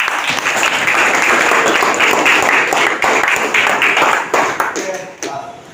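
An audience of police school students at a district police station claps together, a dense loud burst of applause that holds steady and then thins out and fades near the end.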